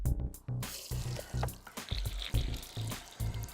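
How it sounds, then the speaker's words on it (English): Mains water at over 3 bar runs through a hose into a heat exchanger, giving a faint, irregular splashing and gurgling flow with intermittent bursts and short pauses. "Turn on the mains water."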